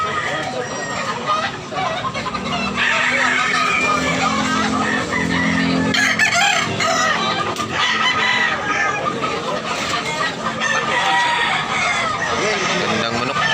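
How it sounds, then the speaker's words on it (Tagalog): Roosters crow repeatedly among clucking chickens at a busy poultry market in Tabunok, Talisay, Cebu, with steady crowd babble and bargaining voices throughout. "Gandang manok."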